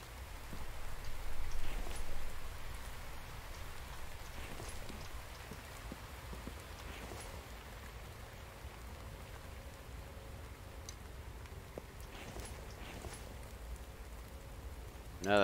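Steady rain falling in a survival video game, a soft continuous patter with faint scattered drops, slightly louder at first and then settling into an even hiss.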